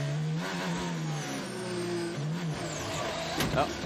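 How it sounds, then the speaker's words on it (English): A Formula 1 car engine shifts down through gears, pitch stepping lower with blips, heard under a commentator's talking. "It sounded like it had an extra downshift there."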